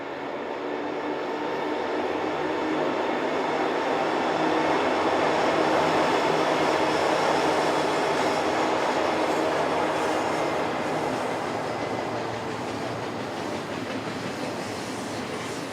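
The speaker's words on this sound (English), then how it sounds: "In 2014, SD70Ms could still be found in solid sets on stack trains." A stack train hauled by a solid set of SD70M diesel locomotives rolls past on a Pomona-area line, a steady loud rumble and rail roar swelling toward the middle and easing slightly, with no talk.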